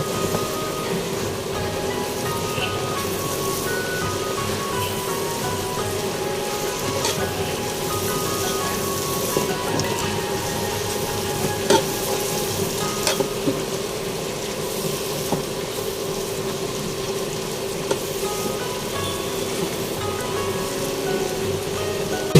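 Paklay fries in a pan with chili and hatsar under a steady, rain-like sizzle that lasts throughout, with a few faint clinks of stirring and a low background hum.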